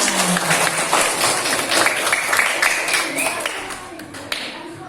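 Students in a classroom clap for their group's presentation, a busy uneven patter of hands close by that tapers off toward the end.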